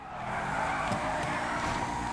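Car tires screeching in a jump drift in GTA 5, a loud continuous squeal with engine roar held steady for a couple of seconds.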